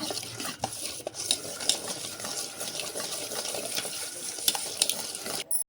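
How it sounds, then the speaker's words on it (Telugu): Buttermilk rasam mixture stirred in a pot, a steady close swishing and scraping of liquid with faint utensil clinks, continuous and fairly loud with no voices. "ఇదంతా ఒకసారి కలుపుకోవాలి"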